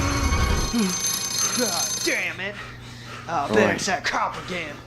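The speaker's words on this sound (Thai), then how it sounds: "มีโทรศัพท์มา" A telephone ringing in Resident Evil 7, a bright repeating ring heard under frequent excited talking.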